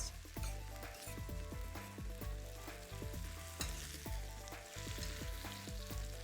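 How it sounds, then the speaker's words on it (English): Spinach cooking in a pan, a steady bright sizzle with repeated scrapes and stirring knocks throughout, close and continuous, no voices. "It only takes a minute or 2 just to fully cook your spinach."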